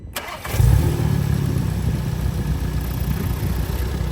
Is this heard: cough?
no